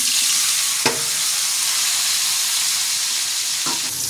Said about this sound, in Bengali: এখন এই তেলে আলু আর সজনাগুলো ঢেলে হালকা করে ভেজে নেব।